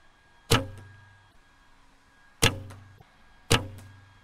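Three shots from a cheap bow fitted with limb silencers and a new string, each a sharp thwack with a brief low resonant hum, spaced apart and close by with no talk.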